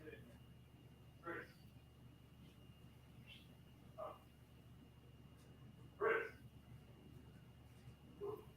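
A dog barks in four short, separate bursts spaced a couple of seconds apart, moderately loud over a quiet background hum, with no talking.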